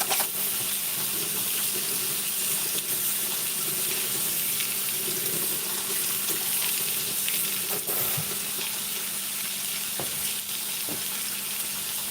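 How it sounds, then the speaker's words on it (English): A sink tap runs for hand washing in a home kitchen while pork rib fried rice cooks, a steady, moderately loud hiss of flowing water mixed with faint sizzling and occasional light clinks, with no talk. "I'm going to wash my hands."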